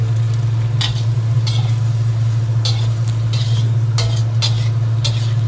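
Pork being added to a hot pan and stir-fried with paprika for a Hong Kong-style dish, a steady sizzle under a constant low hum with repeated sharp scrapes and clinks of a utensil against the pan.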